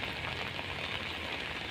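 Rain falls outdoors in a continuous close, loud hiss that stays even from start to finish, with no one speaking.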